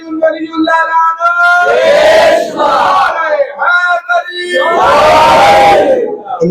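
Crowd at a Muharram majlis loudly chanting religious slogans in unison, two strong surging bursts of many voices with a leader's call between them.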